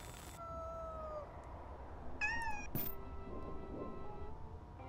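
A kitten meows inside the horror game Amanda the Adventurer, several short, thin cries standing out over a low hum of background noise, with no talking.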